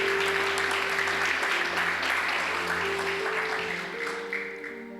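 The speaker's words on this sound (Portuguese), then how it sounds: "Aplauda Jesus aí do seu lugar." Church congregation clapping together in worship, dense steady applause that holds loud for several seconds and then eases off, with a sustained musical tone humming underneath.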